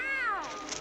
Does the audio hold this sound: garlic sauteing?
no